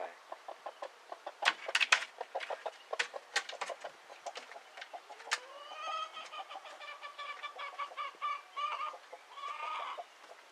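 A broody hen clucks near a nesting box in a run of sharp, irregular clucks and squawks that grow into longer, drawn-out calls, fairly close and loud with no other sound around them.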